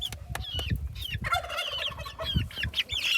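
Backyard egg-laying chickens, including one small hen with a wing problem, cluck and call in a busy flock, with overlapping clucks and squawks close by against steady low background noise.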